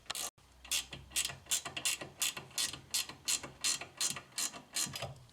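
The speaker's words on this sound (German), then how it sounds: "Dann zieht ihr mal die Schrauben unter Gegenhalten an dem 15er leidlich an." Rear brake caliper bolts on a VW Golf Plus / Golf 5 tightened with a 15 mm wrench, giving about a dozen evenly spaced bursts of close, loud ratchet clicking with no talk.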